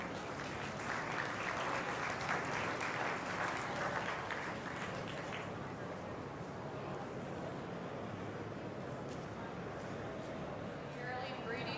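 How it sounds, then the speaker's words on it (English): Crowd applause for exhibitors at a 2019 goat show, steady sustained clapping filling an indoor arena, tapering off slightly toward the end. "So again, let's give these exhibitors a round of applause."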